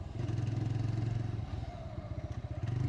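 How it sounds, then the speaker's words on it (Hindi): A TVS Raider 125cc motorcycle's exhaust note under acceleration, a low, pulsing engine throb with rapid rhythmic beats, fairly quiet and close, and no voices. "साइलेंसर का साउंड एकदम बढ़िया देता है। मतलब जब आप अचानक आप एक्सेलरेट करते हैं, भगाते हैं"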